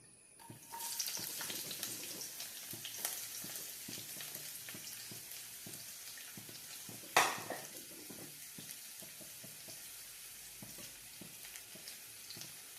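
Onions frying in a pan for a snack recipe, a steady close sizzle with occasional clinks of stirring and one sharp utensil knock partway through.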